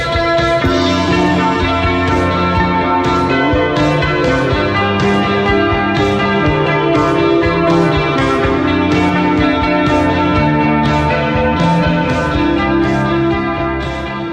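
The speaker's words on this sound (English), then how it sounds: "All the instruments and even the vocals are drowned in effects to create that classic sound." Shoegaze music: dense, continuous walls of reverb-drenched, effects-heavy guitar with washed-out instruments and vocals, loud and sustained throughout with steady rhythmic pulses and no speech.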